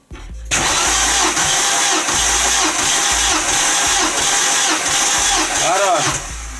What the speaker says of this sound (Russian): Третий цилиндр. Поехали.